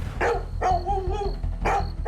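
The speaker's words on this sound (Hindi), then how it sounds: "वो ना जोर जोर से भौंक रहा था, मानो कि वो यहाँ से जाना ही नहीं चाहता।" A dog barks loudly and close by in three separate bursts, the middle one drawn out and whining, over a steady low hum.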